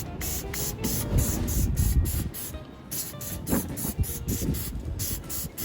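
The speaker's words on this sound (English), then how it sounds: "make sure you give your grill grates a dose of cooking spray." Cooking spray hisses in short bursts onto grill grates before chicken wings go on a kettle grill fitted with a Vortex insert, the spray repeated several times close to the mic.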